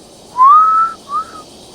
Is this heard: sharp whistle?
yes